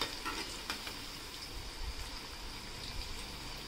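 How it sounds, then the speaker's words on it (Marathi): Crispy corn fritters (bhaji) fry slowly in oil over a low flame, giving a soft, continuous bubbling sizzle that stays faint and even throughout. "आता दोन्ही साइड आपल्याला फ्राय होईपर्यंत मंद गॅसवरच भजी तळून घ्यायची आहे"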